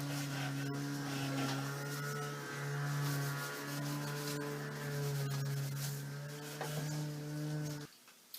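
Synthetic steel wool scuffs the shellac finish on an antique table base with a steady, close rubbing hiss, carried over a constant low mains-like hum that stops abruptly near the end.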